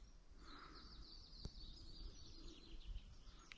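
Faint birdsong twitters high and distant over a low, steady outdoor hush in a quiet forest on a disc golf course, with no other clear sounds nearby.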